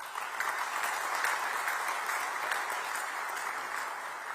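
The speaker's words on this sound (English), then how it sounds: "Please join us in welcoming him with a big round of applause." Audience applause welcoming a speaker at the inauguration of a Tech Mahindra digital delivery center in Nagpur, a continuous, even roar of many hands clapping that holds steady throughout.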